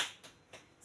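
Three faint, evenly spaced claps from a classroom clapping chant in a lesson, each a short, crisp burst in a quiet room.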